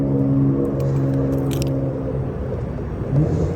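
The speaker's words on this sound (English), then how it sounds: "All that traffic noise, noisy," A steady low rumble of nearby road traffic, engines droning continuously with a few faint scrapes and rattles, no talking.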